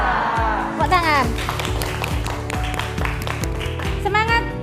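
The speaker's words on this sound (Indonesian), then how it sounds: "Tepuk tangan." Students in a chemistry classroom clapping in a quick, rhythmic group pattern, the claps sharp and close, with voices chanting along between them.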